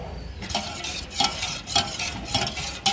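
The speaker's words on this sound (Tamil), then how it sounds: "இது கொஞ்சம் கரைச்சி எடுத்துட்டு பார்ப்போம்" Flour and water batter for Jaffna-style Tirupati halwa being stirred in a pot, a rhythmic scraping swish repeating about every half second, close and clear with no talk.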